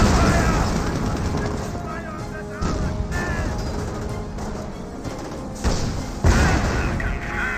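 Tank cannon fire between a Panther and a Pershing in Company of Heroes, several heavy booms and impact crashes over rumbling battle noise, with a commentator talking throughout.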